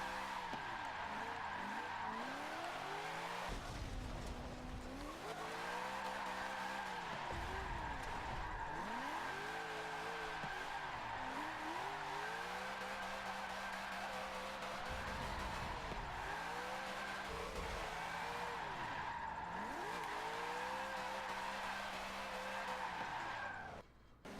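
A 700HP V8 Corvette kart drifts in Forza 7, its engine revving and bogging in steady waves while the tires squeal almost continuously, loud and close, with no talking.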